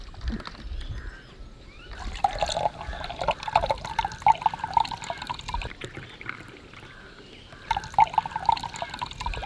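Musk melon juice poured into a glass during a juice challenge, a steady liquid trickle and splash running for several seconds with a brief pause, close and moderately loud over background noise.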